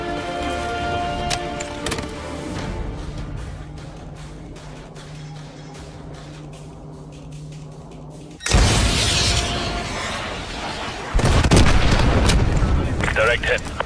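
AGM missile strikes in Modern Warfare land as two sudden loud booming explosions with broad rushing debris noise. Gunfire, rumble and battle sounds come before them.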